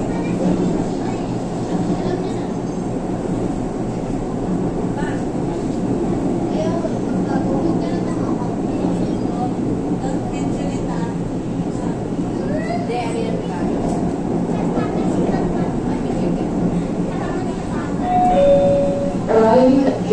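An LRT light rail train rolls into Gilmore Station with a steady rumbling drone, and a chime sounds near the end under a constant background of crowd chatter and announcements.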